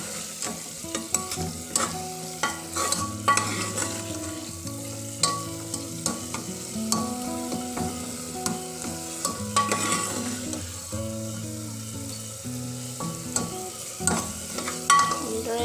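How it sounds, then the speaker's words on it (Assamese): Ginger-garlic paste stirred in a hot frying pan for an Assamese home-cooked dinner, with steady scraping strokes and a light sizzle running under continuous background music, no voices. "আদা নহৰু পেষ্টখিনি দি দিলোঁ আৰু এতিয়া ভালদৰে এনেকৈ লৰাই দিম।"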